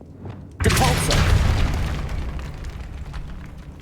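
Depulso repelling spell cast in Hogwarts Legacy, a sudden loud booming burst that rumbles and slowly fades over a few seconds, with a voice speaking around it.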